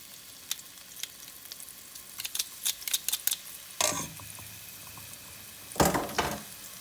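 Garlic sizzles in hot oil, a soft steady crackle broken by sharp pops and two louder bursts of spitting.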